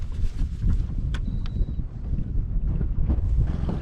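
A fishing boat idles along a river channel on Lake Seminole, its low, steady engine rumble running throughout under gusty wind buffeting the microphone.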